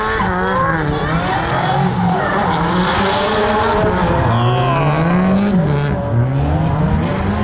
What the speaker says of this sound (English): Sounds amazing with the big blower.